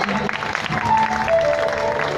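An audience at a religious jagran gathering at a Bhaddarkali temple claps for a performer, a steady wash of applause with a sustained musical tone beneath it.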